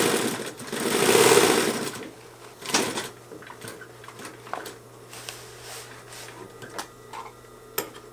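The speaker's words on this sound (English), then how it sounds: "I'm just going to sew a 1/4 of an inch seam allowance" A sewing machine stitches a quarter-inch seam through sail cloth for a tote bag, with a louder run of stitching early on and then quieter intermittent whirring and clicks.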